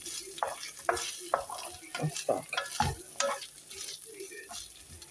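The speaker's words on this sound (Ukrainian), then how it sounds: "Сюди ж ми додаємо картоплю і трошечки її також так підсмажуємо цим всім." Diced potatoes frying in a pan, sizzling steadily while being stirred, with scraping and clicking stir strokes standing out close up throughout.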